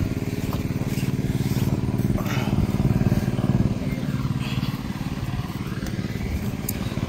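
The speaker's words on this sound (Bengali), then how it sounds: "সামনে ওই ভটভটির আওয়াজ হচ্ছে।" A motorized tiller engine putters steadily in a farm field in the Sundarbans, a continuous low chugging drone that holds for the whole stretch, moderately close and with no talk.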